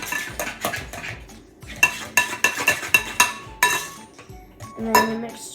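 Spoon clinking and scraping against a mixing bowl while banana bread batter with vanilla and milk is stirred, a quick series of sharp, close metallic taps in an irregular rhythm.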